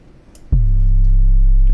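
In FL Studio, a single 808 bass drum hits after a brief quiet lead-in. Its deep boom starts with a sharp attack and then holds as a long, loud, sustained low tone.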